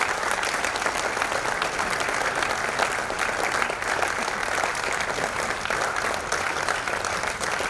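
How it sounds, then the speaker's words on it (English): A conference audience at the 2019 World Forex Summit in Ghana claps loudly and steadily, a dense, unbroken wall of applause that fills the room without a pause. "Keep clapping until he climbs the stage on the end."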